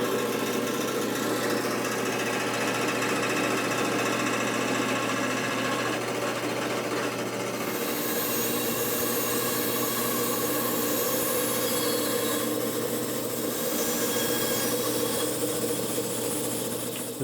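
A bandsaw with a narrow kerf blade cuts a steel machete into a pirate cutlass, a steady machine hum and whir running throughout, the cutting noise growing rougher and brighter partway through.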